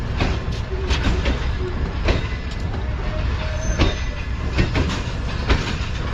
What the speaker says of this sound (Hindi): ट्रेन निकल रही है नवाबशाह रेलवे स्टेशन से